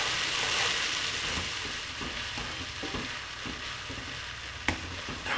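Onion and tomato puree cooking down in a pan for pav bhaji, a low continuous sizzle with faint stirring scrapes and one sharp utensil knock near the end.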